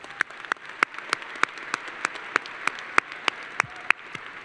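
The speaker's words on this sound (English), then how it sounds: "Another round of applause for them." Applause for a choir at a high school graduation comes through as a sparse, evenly spaced run of single sharp claps, about three per second, fairly close over a quiet background.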